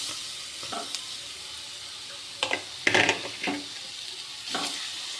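Two sliced plantains dropped into hot ghee in a pan for a healthy laddu, crackling into a steady sizzle with a few louder bursts of spatter and stirring, no voices.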